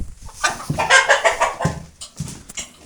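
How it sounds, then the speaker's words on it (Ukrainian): A rooster clucking and squawking in several bursts at close range, with short pauses between calls. "Такий петушок."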